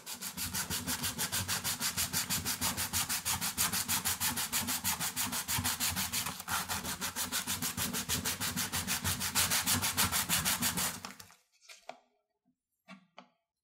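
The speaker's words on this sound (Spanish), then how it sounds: "Tomamos el hueso y vamos a lijar." Steady rhythmic back-and-forth scraping as a bone guitar nut is rubbed on sandpaper, close and loud for about eleven seconds, then a few faint handling taps.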